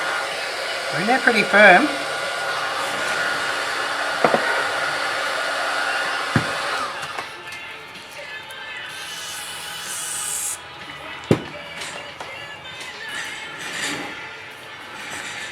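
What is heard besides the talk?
heat gun heating Samsung A30 phone screen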